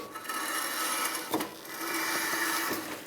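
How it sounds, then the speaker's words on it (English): Parking brake shoes lightly scraping against a spinning rotor on a 2008-2012 Jeep Liberty, a soft continuous rasping rub with faint periodic scuffs as the wheel turns, quiet and close with no talking. "You can hear the parking brake shoes touching a little bit."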